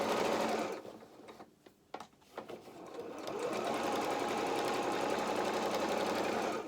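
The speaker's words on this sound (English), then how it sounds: "I am running my presser foot down by the side of the piping as close as I can" A sewing machine stitches piping onto a cushion, its motor whirring in short starts and stops before settling into a long, steady run of rapid stitching, fairly quiet and close.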